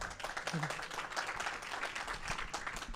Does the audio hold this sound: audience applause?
yes